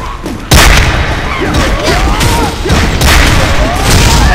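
Gunfire and explosions from a Guardian versus Warden PvP video game match: loud, dense booms and rattling shots begin abruptly after a brief quiet start and keep going almost continuously to the end.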